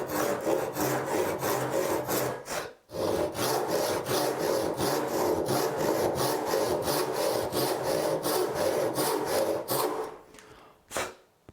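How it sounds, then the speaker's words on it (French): A hand saw cuts wood along a marked line in steady back-and-forth strokes, each a rasping rush, about twenty in a close run with one brief pause, slowing to a few final strokes. "on voit les copeaux qui se soulèvent au moment où on scie"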